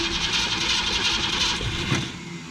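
An old 1966 Ford Mustang engine, long abandoned, cranks on its starter in a steady, loud churning drone that holds for about two seconds, then drops off sharply and fades.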